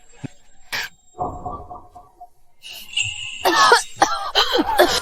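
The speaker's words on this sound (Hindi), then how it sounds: "खांसी।" A few short coughs break out near the start, followed by scattered voices and louder, animated talking toward the end.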